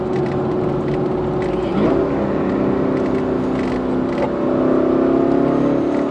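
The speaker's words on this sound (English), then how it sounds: "It's a proper muscly V8." A Walkinshaw Performance VXR8 V8 engine revs loud and close, a deep rumbling drone that swells upward in pitch partway through and holds there.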